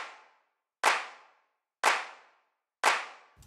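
An MPC clap sample plays in a sampler with its fade-out switched off. Three sharp claps sound about a second apart, each leaving a longer, brighter tail that rings until the next one. A fourth begins at the end. No voices.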